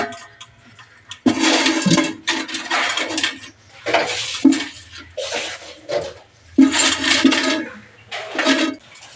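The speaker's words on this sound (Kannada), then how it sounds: "ಬಕೆಟಲ್ಲಿ ನೀರು ತೊಗೊಂಬಂದಿದ್ದೀನಿ, ಇದನ್ನೆಲ್ಲ ತೊಳೆದು ಈಗ ಇಡ್ತೀನಿ." Water from a bucket is splashed and poured in repeated bursts to wash things down, each gush loud and close with short pauses between.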